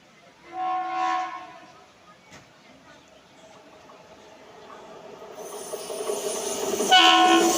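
A horn sounds from the Jan Shatabdi Express 12075 running from Kozhikode to Ernakulam, then the train's rumble builds steadily, rattling and clattering louder toward the end as another horn blares.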